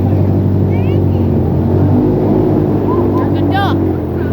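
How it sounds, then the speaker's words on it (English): An airboat engine roars loud and constant in the Everglades while the boat turns around, a heavy steady drone with a voice briefly audible over it. "Hold on, give me a sec, I gotta turn the boat around."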